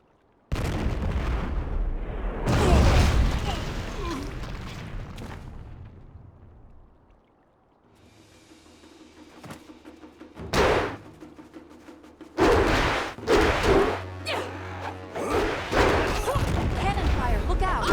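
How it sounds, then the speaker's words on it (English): Cannon fire in the Xbox game Jade Empire, with heavy booming blasts and rumbling explosions, some bursts in quick succession, mixed with voices and background music. "Cannon fire, look out!"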